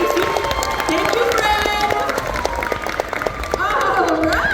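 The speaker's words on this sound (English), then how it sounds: "one more round of applause for our volunteers" An audience at a science museum explosion show applauds its volunteers, a crowd of claps and cheers mixed with overlapping voices throughout.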